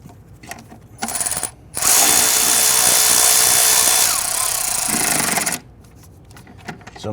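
A power tool whirs loudly in sustained bursts of a few seconds each, driving intake manifold bolts on a 1999-2004 Jeep Grand Cherokee 4.7L V8, with short pauses and quieter workshop handling between.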